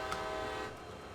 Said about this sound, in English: Now back up into the locomotives.